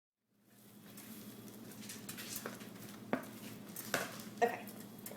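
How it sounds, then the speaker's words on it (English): A spoon stirs peanut butter no-bake cookie mixture in a hot pan, producing soft scraping and patter with a faint sizzle and a few sharp clinks against the pan's metal sides, close and clear without speech. "just stir it in carefully"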